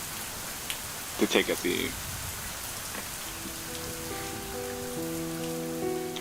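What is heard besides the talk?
rain falling on pavement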